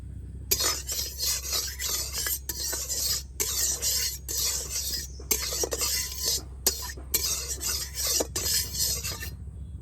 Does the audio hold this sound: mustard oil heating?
yes